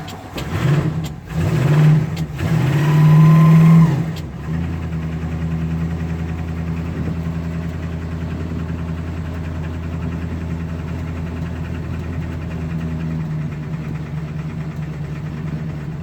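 A car engine with a poorly working choke cranks and sputters roughly for a few seconds, then settles into a steady low idle that continues to the end.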